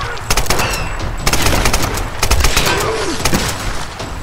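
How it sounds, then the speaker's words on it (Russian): Kalashnikov rifle fire in the 2013 Tomb Raider video game, loud rapid automatic bursts repeating close up, with a faint voice in the mix. "Наш Калашников стреляет метко."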